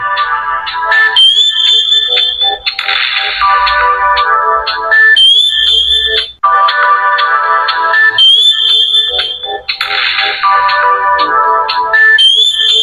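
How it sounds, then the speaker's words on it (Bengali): A bright, electronic polyphonic ringtone melody from a QPhone QP1 Ultra feature phone plays loudly, looping its synthetic tune with sharp, tinny tones and no voices. "খুব সুন্দর একটি রিংটোন ব্যবহার করা হয়েছে এই ফোনটিতে"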